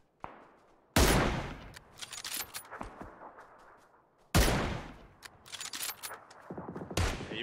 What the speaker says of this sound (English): they're shooting at us from behind now